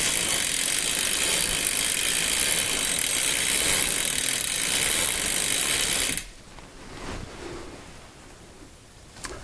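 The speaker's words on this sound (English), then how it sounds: "now let's get a nice clean cloth and run the chain through this to see what we've got." A bicycle freewheel ticks in a steady rapid ratcheting whir as the chain is run through a cleaning cloth, loud for about six seconds before cutting to quieter faint handling sounds.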